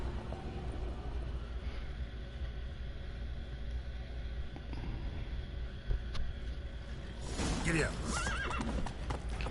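In The Witcher 3, a horse whinnies and its hooves clip-clop over game ambience, with a brighter neigh near the end and a voice talking faintly underneath.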